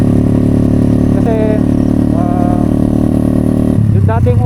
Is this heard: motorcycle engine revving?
yes